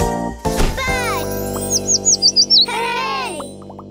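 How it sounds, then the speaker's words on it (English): A cartoon bird chirps in a children's programme: a quick run of five bright, warbling tweets over sustained background music, with a soft twinkling jingle before and after. "Bird."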